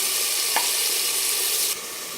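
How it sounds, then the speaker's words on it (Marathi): Chopped tomatoes with salt sauté in a hot pan for a home-style chicken thali, giving a loud, steady sizzle with one brief stir, then the hiss drops slightly lower. No one speaks. "दोन मिनिट फक्त आपण परतून घेणार आहे याला पण"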